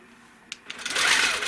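Domestic sewing machine stitching fabric: a couple of brief clicks, then the rapid, continuous whirring of the needle running at close range.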